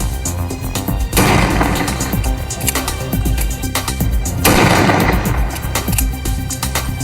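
Gunshots fired in quick succession from a licensed gun, loud sharp cracks in two bursts with crowd noise in between, recorded outdoors.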